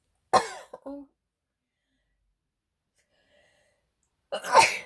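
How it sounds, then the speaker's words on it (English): A sharp, close sneeze bursts out, followed by a long quiet gap and then another loud breathy outburst. "I'm going to sneeze."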